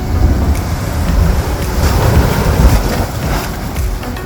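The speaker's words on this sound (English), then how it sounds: "You look down into the hole, and here comes the water." Sea water surges up through a lava-rock blowhole on the coast of the National Park of American Samoa, a loud, steady rushing wash of water with no voices.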